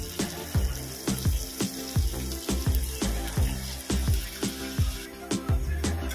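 Water poured into sizzling spice paste in a pan for a Bengali aar fish curry, a running splash and hiss broken by rhythmic stirring knocks, close and steady.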